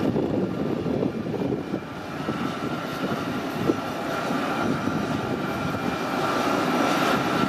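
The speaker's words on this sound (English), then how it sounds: "It's being towed by a tug." Aircraft at an airport being towed by a tug, a steady loud engine-like rumble and broadband roar holding throughout with no talk, one brief louder bump midway.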